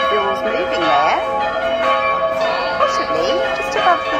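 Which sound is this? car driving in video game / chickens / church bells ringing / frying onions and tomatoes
church bells ringing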